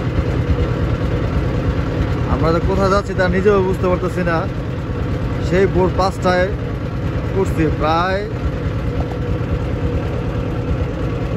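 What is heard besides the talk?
trawler boat engine running on Meghna river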